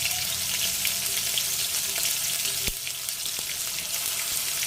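Onion paste dropped into hot oil with cumin seeds, giving a loud, steady frying hiss with a single sharp clatter partway through, close up and free of talk.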